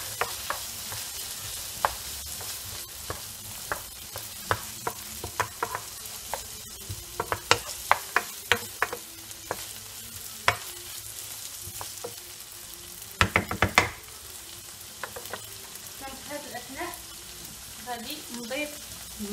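A mixture is stirred and mixed in a frying pan, with scattered clicks and scrapes of the utensil over a steady low sizzle, close by; a voice is faintly present at moments.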